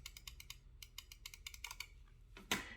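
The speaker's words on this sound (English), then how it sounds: "this is the little part that gives you the clicking kind of sound." Rapid clicks from the switch of an Alienware 720M mouse, very quiet and close, coming in quick runs of sharp taps, then a slightly louder single snap at the end.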